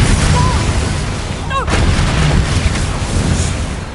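A Confringo spell explosion in the video game Hogwarts Legacy erupts as a loud, close burst with a booming rumble that decays over a few seconds, amid game noise and a brief whistling magical tone.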